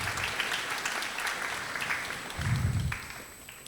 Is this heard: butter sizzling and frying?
no